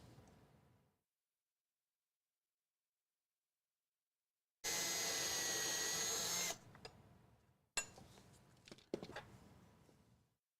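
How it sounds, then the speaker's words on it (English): A power drill pre-drills holes in a wooden 5 by 7 foot rug tufting frame, one steady whirring burst followed by shorter uneven runs, close and loud after a quiet start. "So, next, pre-drill."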